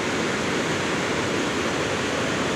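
Water from an open floodgate at the Yasothon–Phanom Phrai dam rushes in a steady, loud, broadband roar that holds unbroken from start to finish, with no voices.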